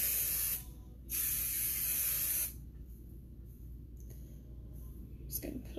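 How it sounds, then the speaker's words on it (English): New hairspray hisses from an aerosol can onto styled hair in two close bursts, the first short and the second longer, with quiet pauses and faint handling clicks between them. "I'm going to spray my new hairspray"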